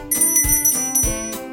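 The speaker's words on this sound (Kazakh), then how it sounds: "Қоңырау." A bicycle bell rings two quick, bright double dings, loud and close, over a light children's song backing with no voices.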